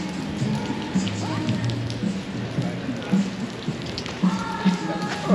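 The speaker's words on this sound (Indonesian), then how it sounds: "makin hujan ternyata. Hujan ini." Rain falls on a city street at night in Westlake, Los Angeles, a steady hiss and patter with passing traffic hum and a few faint voices in the background.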